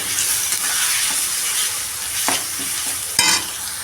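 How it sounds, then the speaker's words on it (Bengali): Coriander-cumin powder and Kashmiri red chilli powder sauté in hot oil with a loud, continuous sizzle, and a spoon scrapes and knocks against the pan as the spices are stirred. "ধনে জিরের গুঁড়োটা দিয়ে দিলাম এবং কাশ্মীরি রেড চিলি পাউডারটাও আমি দিয়ে দিলাম এবার আমি ভালো করে কষিয়ে নেব"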